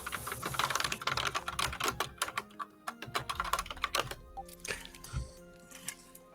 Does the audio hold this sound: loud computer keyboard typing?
yes